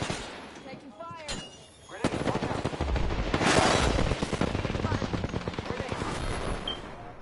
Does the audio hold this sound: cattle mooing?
no